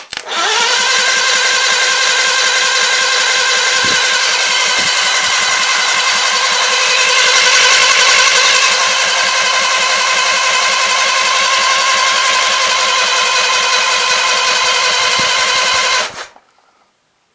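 An Onan B43 engine with its cylinder heads removed is cranked over after sitting unused for a long time, a loud, steady, buzzing whir that runs unbroken for about sixteen seconds before cutting off abruptly.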